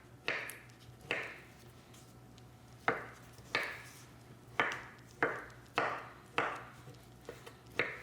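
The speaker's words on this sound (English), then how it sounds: "little cuts of that avocado in there." A knife dicing avocado on a cutting board, about ten crisp separate chops in an uneven rhythm, close and clear with a quiet hum behind and no talk.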